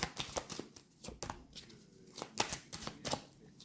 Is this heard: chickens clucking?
no